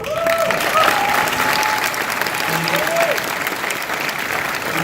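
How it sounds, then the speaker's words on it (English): Convention panel audience applauding in a hall, a broad steady wash of clapping lasting the whole stretch, with faint voices and a few tonal squeals woven through the crowd noise. "Please, round of applause."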